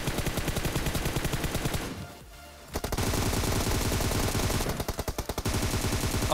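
Rapid automatic gunfire in the mobile shooter BGMI, loud sustained bursts filling nearly the whole stretch, with a short lull in the middle and another brief break near the end.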